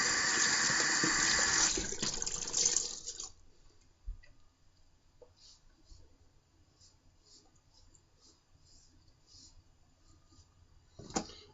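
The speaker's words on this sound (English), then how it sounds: "Cold water rinse." Tap water runs loudly into a sink for a cold rinse after shaving with a straight razor, stopping after about three seconds, followed by faint clicks and small handling sounds in a quiet room.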